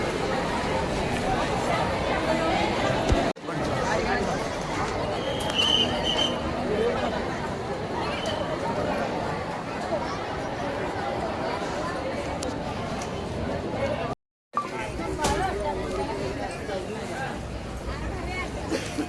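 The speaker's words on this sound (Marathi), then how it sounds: "आज रविवारची गच्च गर्दी गच्च." Dense Sunday crowd at Adamapur, a continuous babble of many voices close and far, with a nearby voice talking over the hubbub and a brief dropout near the end.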